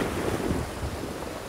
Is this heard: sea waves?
yes